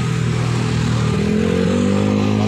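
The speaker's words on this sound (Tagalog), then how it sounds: "Ayan ang motor ko guys." A motorcycle riding along a steep downhill road beside a ravine near a mining area, its engine humming steadily with rising and falling pitch tones, close and loud with no talking over it.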